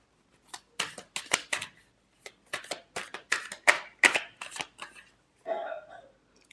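Tarot cards being shuffled by hand, a run of crisp riffling flutters in quick bursts close up, with a brief pause and a softer final shuffle at the end.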